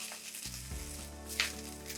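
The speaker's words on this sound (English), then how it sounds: "I can hear, perfect timing. I hear these peppers." Peppers sizzling in a pan for a breakfast frittata, a soft continuous crackle with a brief clink of a utensil partway through.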